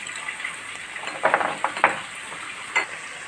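Onions sizzle softly in a frying pan for chicken kappa biriyani while a spoon stirs them, giving a few sharp scraping clinks over a quiet, steady frying hiss.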